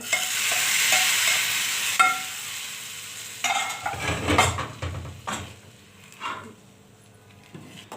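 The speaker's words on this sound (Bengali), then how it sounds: "এখন আমি মাসকালার ডালটা অপর পাশে বাগার দিব আর পিঁয়াজ ভাজা হয়ে গেছে" Mashkalai dal being tempered in a pan with fried onions, with a steady hot sizzle and stirring at first, then scraping and clattering pan noises and brief bursts of frying.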